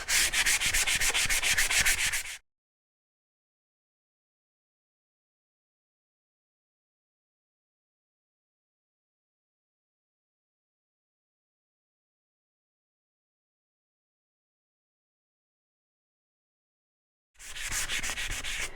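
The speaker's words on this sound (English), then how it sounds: "I'm sanding pretty heavy. I'm pushing quite hard to try and get through that top layer of paint" Steady, rough rubbing of sandpaper pressed hard against a painted surface to cut through the top paint layer for a couple of seconds, then a long silence before the rasping scrape resumes near the end.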